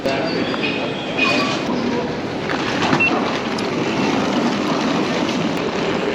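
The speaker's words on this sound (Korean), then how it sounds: "저희는 이 기차를 타고 4시간 정도 가야 돼요" Steady interior rumble of a TGV high-speed train travelling from France into Germany, a continuous broadband roar with faint rattles and quiet voices in the cabin.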